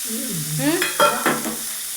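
Onion, garlic and ginger sauté in a pan with a soft sizzle beneath a close scraping stir, which brings brief squeaky, gliding tones over about two seconds.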